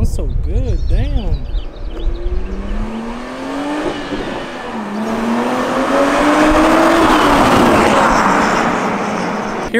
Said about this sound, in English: Hearing my car from the outside sounds so much different.